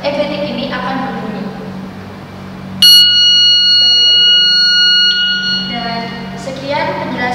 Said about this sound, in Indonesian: maka buzzer yang ada di dalam ebetik ini akan berbunyi